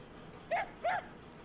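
Koromaru, the dog in Persona 3, gives two short barks in quick succession, clear and moderately loud against a quiet game background, with no speech.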